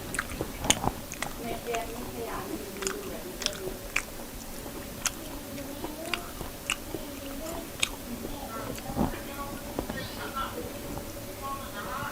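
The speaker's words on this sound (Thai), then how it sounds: "ตับนี่จะเคี้ยวง่ายครับตับย่าง" Grilled pork liver is chewed close up in steady, soft, moist bites and squishy mouth sounds that repeat for several seconds over a low background hum.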